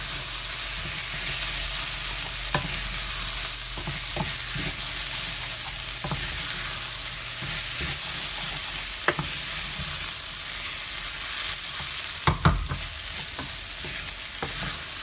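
A paella mixture of chicken, seafood, tomatoes and rice is stirred in a hot pan, giving a steady sizzle broken by occasional scraping clicks of the utensil, with a sharp clatter near the end and no talking.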